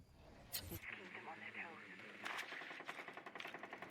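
Gunfire in the video game Rainbow Six Siege during a pro league match, as a player shoots out a camera: rapid rhythmic shots rattle beneath a caster's steady commentary.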